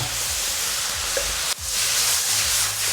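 Carrots stir-fried in a hot wok, a steady bright sizzle with scraping and tossing sounds, loud and close, briefly dipping midway before resuming.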